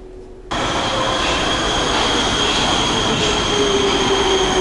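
A Prague metro train on the B line roars into a typical station, its sound rising abruptly after a quiet moment into a loud, sustained rumble with a thin wheel squeal running through it.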